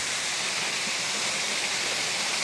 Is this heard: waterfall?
yes